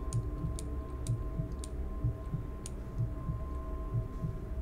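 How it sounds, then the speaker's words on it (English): Heartbeat from the horror video game Welcome to Kowloon, signalling an approaching enemy: a steady, soft, low double thump repeating about twice a second under a constant hum, with faint clicks above. "We have a heartbeat. That means she's coming."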